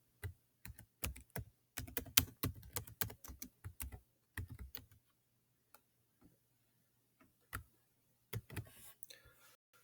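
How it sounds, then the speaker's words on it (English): Someone types on a computer keyboard, with quick bursts of soft, close clicking keystrokes, then sparse isolated taps after a pause and a short final flurry; everything is quiet and there is no talking. "So we're going to just type in our titles."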